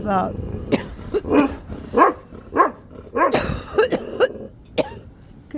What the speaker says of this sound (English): she's my guard dog. She doesn't let anybody get near me.